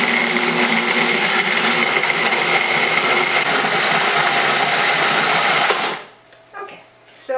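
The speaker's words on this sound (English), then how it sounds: "food processor" A loud food processor whirs steadily, blending sweet potato muffin batter with almond or other plant milk, a dense motor drone that runs for about six seconds, then cuts off abruptly, leaving faint clicks and handling noises.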